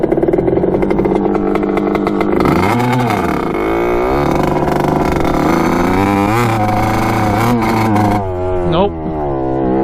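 A vintage Kawasaki dirt bike ridden with its gas cap off, engine loud and close throughout, rising and falling in pitch as the throttle is worked through several revs before easing off near the end.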